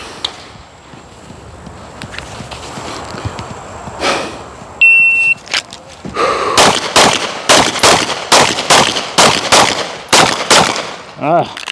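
At an outdoor shooting range during a movement-and-transition drill, a sharp electronic timer beep sounds, then a loud, rapid string of about a dozen gunshots follows at an even, quick pace, each crack close and distinct, over faint background noise.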